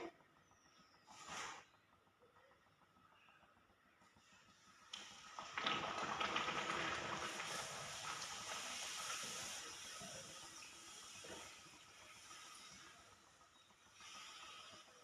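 Puri frying in hot oil, a sustained sizzling hiss that swells loudly after a quieter start and holds steady, with faint background noises.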